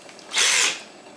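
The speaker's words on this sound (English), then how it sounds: "You might want to do this with someone else holding the piece as you drill." A power drill bores into a plaster sculpture in one short burst, a loud high whine that rises and cuts off within about half a second.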